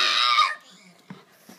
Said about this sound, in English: I've also never heard this dog bark. It just screams.